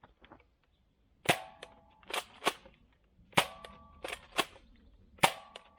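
Toy foam blasters from Shop Blasters fire at an outdoor range, giving sharp snapping shots: about eight in a loose irregular rhythm over six seconds, close and fairly loud, each with a brief ringing tail, and no talking.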